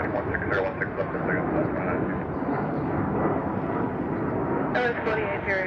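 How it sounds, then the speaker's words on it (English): An Airbus A220 airliner departs runway 16 right at Salt Lake City International Airport, a loud continuous jet engine roar heard from nearby that stays steady throughout, with voices talking faintly over it. "a departure of an A220 on 16 right"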